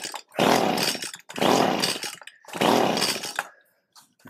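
A Stihl string trimmer on half choke is pull-started three times, each pull giving a loud close rasping burst of about a second, with no sign of the engine catching and running.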